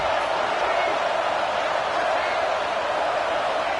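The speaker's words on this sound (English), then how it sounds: "This crowd is trying to inspire this defense to make a big red zone stop." Football stadium crowd roaring to spur the defense during a red zone stand, a dense, steady wall of cheering and noise held at constant loudness throughout with no break.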